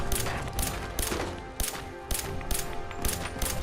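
Gunfire in Fallout 4: eight sharp, evenly spaced shots ring out about every half second over a low background hum, each crack loud and close.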